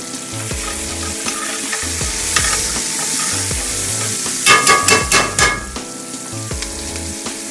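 Onions frying in a pan while smothered pork chops are being cooked, a steady close sizzle with stirring and clattering scrapes toward the end, no talking.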